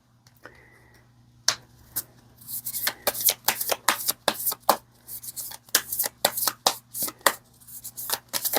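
Tarot flower-meaning cards being shuffled by hand, a quick run of crisp riffling and slapping bursts up close, one after another at an uneven rhythm, with a steady low hum underneath.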